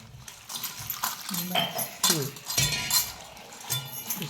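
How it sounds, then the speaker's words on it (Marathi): Chopped dill greens being washed by hand in water in a vessel, with irregular splashing, sloshing and clinks of the container, fairly close, and faint voices now and then. "आता खळा खळा पाण्याने चांगली धुवून घ्यायची"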